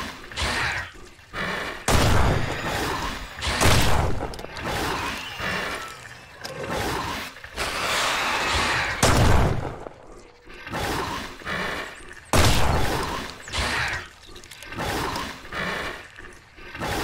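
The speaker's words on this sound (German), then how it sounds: "wie viele Schüsse habe ich jetzt verballert?" Gunfire in the survival video game Mist Survival: repeated loud booming shots in irregular bursts, each decaying with a rough rumble, packed densely across the stretch without speech.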